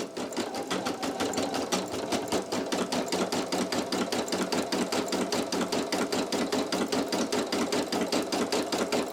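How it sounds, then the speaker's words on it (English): A Brother PE800 embroidery machine stitches a design onto a towel with a fast, even mechanical chatter of needle strokes and a steady motor hum, close and continuous with no voices. "this machine sews up to 650 stitches per minute"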